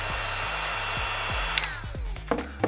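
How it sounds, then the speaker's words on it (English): A heat gun or hair dryer warming a vinyl skin on a Red Komodo camera, a steady close blowing hum with a pulsing low motor tone and a few light clicks and taps near the end. "I recommend using just a heat gun or hair dryer. Just give it a little bit of heat."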